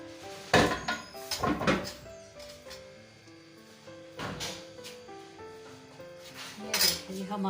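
Brain fry with eggs is served out of a cooking pan, with clinks and scrapes of metal utensils against cookware coming in several close, loud bursts separated by short pauses.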